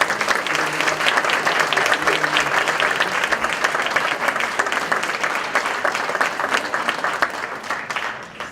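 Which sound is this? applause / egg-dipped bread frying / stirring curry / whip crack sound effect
applause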